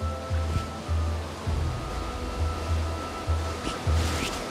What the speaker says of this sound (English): I see the sea